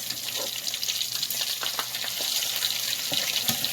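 Potato fritters (pakoras) frying in hot oil on high heat at a Pakistani cuisine culinary competition, a dense continuous hiss and crackle with scattered pops, close and fairly loud.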